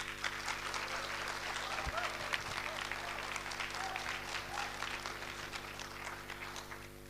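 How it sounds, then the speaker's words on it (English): Audience at a live crypto world tour event in Hyderabad, India clapping in a steady, dense wash of applause that runs throughout, with a low hum and occasional voices underneath. "And a big clap if you think it should be Matic."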